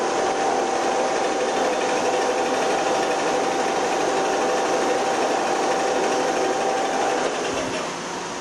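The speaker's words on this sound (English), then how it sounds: "I can move the back bending roll out of the way." The back bending roll of a Carell A31 series plate roll moves under power with a steady, loud mechanical hum and whine that holds evenly for several seconds, then eases slightly at the end.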